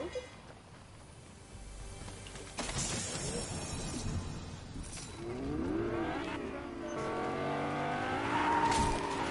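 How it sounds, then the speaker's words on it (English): A car in the Fortnite video game drives off with rising engine tones and squealing tires building over several seconds, loud and close, with game sounds and some voices mixed in. "I was in the car"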